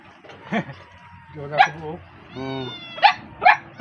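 Dogs at a rural hut bark and yip in short separate bursts, fairly close, with a whimpering whine in the middle, mixed with nearby voices.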